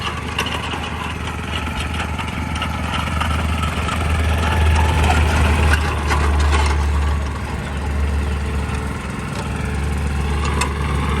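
A Mitsubishi MS65 tractor engine runs steadily in fifth gear with a low rumble, its pitch rising as it revs up midway before settling back, loud and close.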